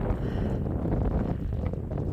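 Cold wind at about minus four degrees blows across the snowy Col du Sapenay mountain pass, a steady, loud rumbling gust buffeting close against the microphone.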